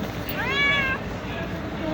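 A hungry cat gives a single clear meow while being fed, close by over steady background noise, with a person talking nearby.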